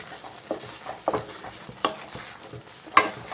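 Onam-style kootukari curry stirred in a pan with a spoon, giving a few distinct scraping strokes spaced about a second apart over a faint background sizzle, close and fairly quiet.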